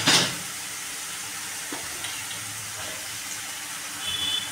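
Spices for kadhi sizzle in hot oil in a pan, a steady soft hiss after a brief sharp crackle at the start, with no talk.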